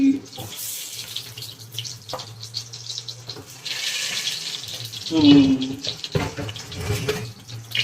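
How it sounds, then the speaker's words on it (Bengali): Large potato chunks frying in hot oil in a pan while cooking chicken curry, with a steady sizzling hiss that swells and crackles louder partway through, and someone talking over it. "আলুগুলোকে একটু ভাজতে হবে ভালো করে প্রথমে"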